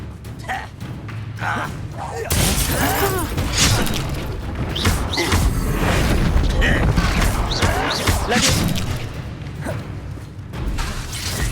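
Bombarda spell blasts in Hogwarts Legacy on Xbox Series X, loud booming explosions and whooshes in a chaotic spell battle, with characters shouting spell names and taunts over the din.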